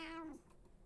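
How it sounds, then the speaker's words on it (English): A house cat named Hurricane gives one short, close, falling meow, unhappy in tone, then quiet room noise follows. "Hurricane is Joel's cat"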